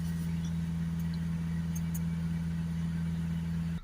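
A Renault Espace 2.0 dCi diesel engine idles steadily with a fitted DPF, a constant low drone with a strong hum that holds evenly throughout and cuts off right at the end; nobody speaks.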